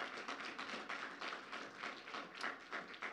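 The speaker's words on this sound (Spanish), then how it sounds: "Vamos a brindarle un fuerte aplauso de nuevo a nuestro Señor" A church congregation claps together in a rhythmic, steady pattern of hand claps, fairly soft and moderately distant, without talk over it.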